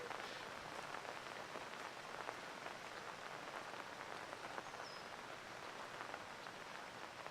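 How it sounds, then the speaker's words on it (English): Steady rain falls outdoors at a girls' high school golf tournament, a constant soft hiss of drops on surfaces, faint and even throughout, with no talking. "It might mean you want to get out of the rain"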